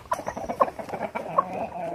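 Hens clucking in a backyard coop during feeding and egg collection, several birds giving short overlapping clucks and murmurs at close range, with a louder call standing out now and then and no talk.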